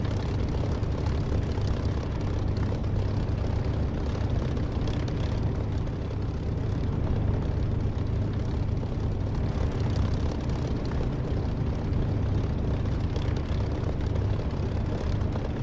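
A steady, continuous aircraft engine drone from a DCS flight simulator game holds at a constant, fairly loud level throughout, with no talking.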